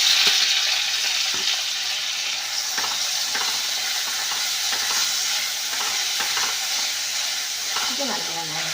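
Tomatoes and green chillies fry in a pan for an egg gravy, a steady loud sizzle running throughout with intermittent scraping stirs and a brief clink near the end.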